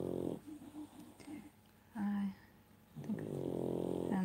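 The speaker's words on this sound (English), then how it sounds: "both of my dogs are sleeping, so you might be able to hear both big snoring and little snoring" Two sleeping dogs, one big and one small, snore close by: slow, rhythmic rasping breaths with a few short snorts between them, fairly quiet, in an otherwise still room.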